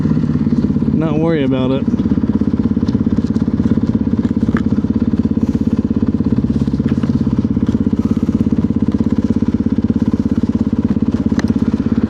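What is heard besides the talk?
motorcycle with Recluse clutch stopped at traffic lights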